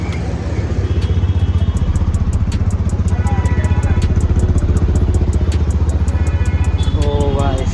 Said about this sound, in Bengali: ফাইনালি আমার বাইকটা শোরুম থেকে বের করা হচ্ছে